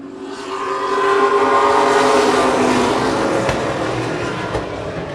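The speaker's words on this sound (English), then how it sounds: "as soon as these cars come out ready to race, that sound can certainly cheer you up." A field of race cars pulls onto the track together, engines building to a loud, layered roar that swells and then holds as the pack passes close by.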